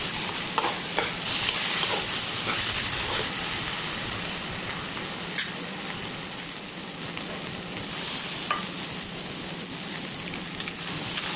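A taro and raw mango vegetable curry fries in a pan with a steady, close, crackling sizzle that holds throughout, punctuated by occasional soft stirring scrapes and no speech.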